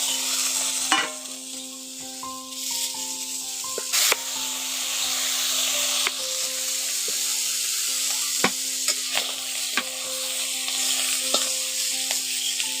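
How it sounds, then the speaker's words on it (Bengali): Pieces of young jackfruit fry in oil with a loud, constant sizzling hiss, broken now and then by sharp clicks and taps of a utensil against the pan. "এখন বাকিগুলো আবার ভেজে নিচ্ছি"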